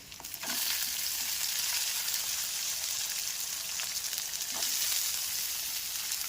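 Soaked peas and cashews sautéing in a hot pan for dhokla batter, giving a steady, even sizzle and crackle throughout with a few soft stirring scrapes.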